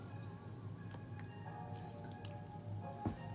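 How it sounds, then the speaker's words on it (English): Thick cold process soap batter pours and spits into a mold, giving soft, wet drips and squishy plops over a low steady background hum, with no talking. "Why when I pour that in there, why it always spit that soap out like that?"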